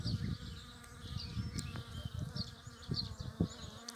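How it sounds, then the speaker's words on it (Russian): Honeybees buzz around blooming spring flowers, their soft wing drone close and continuous, with small pulses as individual bees pass near, and faint birdsong in the background. "И пчелки работают, красавицы наши."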